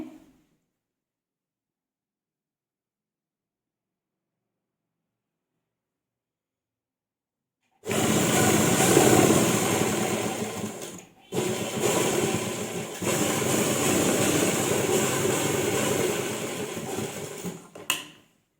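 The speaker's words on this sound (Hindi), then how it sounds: "और यहाँ से सिलाई हम बिल्कुल पॉकेट के साथ साथ में लगाएंगे" A sewing machine stitches along a ladies' pant pocket, running in a loud, steady mechanical whir close up, stopping briefly once before resuming, then halting near the end after a silent start.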